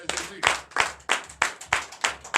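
Congregation in a church service clapping in a steady rhythm, sharp claps landing about every third of a second, close and fairly loud with no voices over them.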